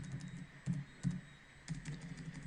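Typing on a computer keyboard, a few soft, uneven key taps and clicks close to the microphone over a low room hum, with no talk.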